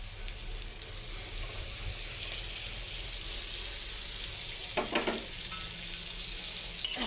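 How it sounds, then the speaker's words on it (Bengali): Chili, ginger-garlic and onion pastes fry in a pan for an egg curry, giving a steady close sizzle with a couple of brief louder bursts from stirring near the end. "যা যা মশলা দিয়েছিলাম মশলাগুলো দিয়ে দিই।"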